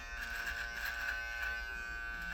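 Close, steady buzzing hum of an electric hair clipper cutting hair freehand on the side of the head during a skin fade, a faint constant drone with no talking.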